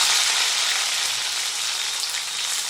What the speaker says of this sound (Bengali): ভেন্ডিগুলো কিন্তু খুব বেশি ভাজবো না, হালকা করে ভেজে নেব যাতে এর কালারটা না নষ্ট হয়ে যায়।